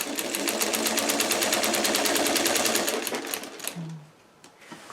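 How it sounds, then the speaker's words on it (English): A sewing machine back stitches at the end of a pillowcase seam in a fast, even run of needle clatter, then cuts off near the end, leaving a brief quieter tail. "I'm going to do a little bit of back stitching right at the end"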